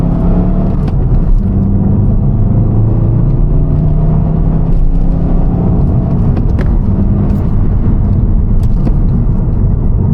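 A tuned diesel VW Golf GTD engine revs hard from inside the car, with a loud, continuous drone and low rumble that rises and falls across the rev range for about ten seconds, with no talking.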